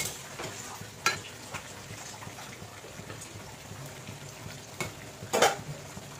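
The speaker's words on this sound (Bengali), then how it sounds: "দিয়ে আরও খানিকক্ষণ কষাবো" Mutton being stir-fried kosha-style with ground papaya and Kashmiri red chilli powder in a pan, a low steady sizzle broken by a few sharp clinks and scrapes of a spoon against the metal, close up and without voices.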